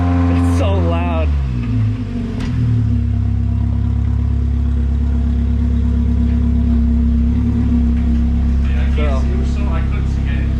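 The engine of a 2000 Mazda Miata NB, under clutch slave cylinder work, drones loudly and steadily at idle with a deep, constant hum, while people talk over it.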